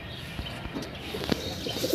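Pigeons kept at a home loft, including a black-necked Giribaz male, coo softly in the background amid faint chirps and light rustling over a dull ambient hiss.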